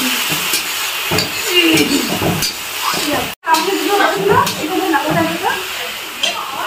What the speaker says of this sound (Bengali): এই যে মাছের মাথা মুগের ডাল সেদ্ধ করা, নিমন্ত্রণ ডাল করছি।